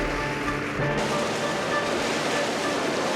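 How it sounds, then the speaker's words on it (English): Churning white water of the rapids on the Tara River in Yugoslavia, a loud continuous roar of rushing water heard from a boat, steady throughout with a slight shift near the start. "Now we're starting to hit the rapids."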